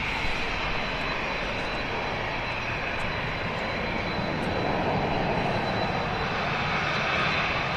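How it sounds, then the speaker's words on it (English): A KLM Boeing 737 NG on the runway sends out a loud, steady roar of jet engines, broadband and unbroken for the whole stretch, heard from an outdoor spotting spot with no talk. "737 NG. Should sound loud, this."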